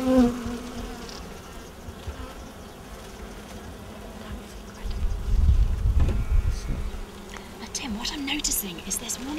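Bees buzz loudly and continuously at a hive, a dense close drone, with people speaking quietly beneath it and a louder rumble midway.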